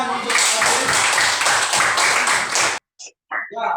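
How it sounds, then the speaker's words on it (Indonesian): Applause from a classroom of students cheering a classmate, dense rapid clapping for nearly three seconds, then a few scattered claps trailing off. "tepuk tangan untuk Asik"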